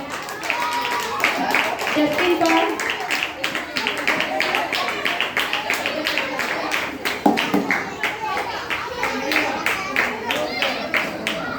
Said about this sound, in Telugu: క్లాప్ చేయండి అందరూ.